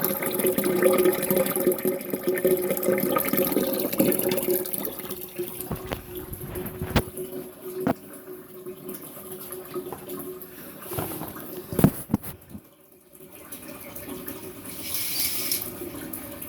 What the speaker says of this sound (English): So I came back to water on my toilet floor, down the toilet, and this noise.